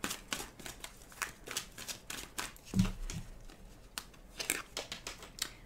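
Oracle cards being shuffled by hand, a rapid series of crisp riffling snaps and soft paper crinkles in uneven bursts, close and fairly quiet, with no talking.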